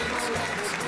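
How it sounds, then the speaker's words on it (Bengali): A studio audience on a Bengali television game show claps loudly and continuously, a dense steady wash of applause that fills the whole moment. "সবাই জোরে হাততালি দাও।"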